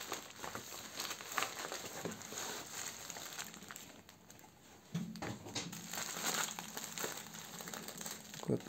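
The plastic bag of a gift package, holding a Bionicle toy, crinkles and rustles as it is handled and opened close by, quiet, irregular crackles with a few sharper crumples and soft thumps.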